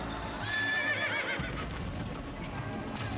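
A horse in Assassin's Creed whinnies in a bright, wavering neigh near the start, with game sounds and hoof clatter mixed underneath for a few seconds.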